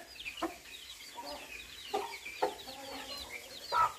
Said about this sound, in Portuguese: Essa é galinha de quintal verdadeira